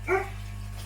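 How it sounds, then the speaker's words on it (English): A single short dog bark, fairly close, followed by quiet with a low steady hum in the background. "Sorry about the dogs."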